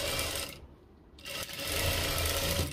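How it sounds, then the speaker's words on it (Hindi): Sewing machine stitching the seam of a hijab scarf, a rapid whirring run that stops briefly and then starts up again, close and clear. "तो बिल्कुल जैसे मैं लगा रहा हूँ सिलाई, सेम आपको इसी तरीके से सिलाई लगानी है।"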